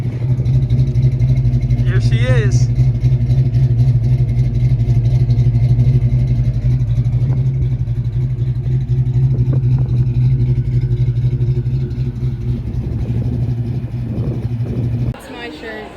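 A Foxbody Ford Mustang idles loudly and steadily with a deep, throbbing V8-style rumble at a rest stop, a brief rev rising near the start, while someone speaks a few words over it.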